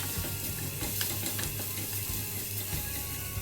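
Onion and garlic sizzle in a frying pan, a steady close crackle of hot oil with small irregular pops and a faint low hum, no voices.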